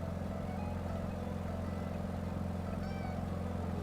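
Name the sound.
Beechcraft Model 17 engine purring in flight simulator video game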